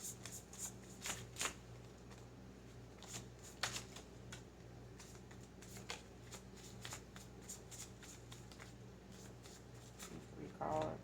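Tarot cards being shuffled by hand, a quiet steady riffling and flicking with repeated soft card slaps over a faint low hum.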